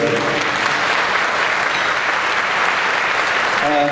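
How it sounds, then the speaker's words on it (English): Sustained, loud applause from a conference audience at a manufacturing alliance keynote, steady clapping filling the full four seconds with no talk over it. "One more round of applause for Katherine A DeRosear."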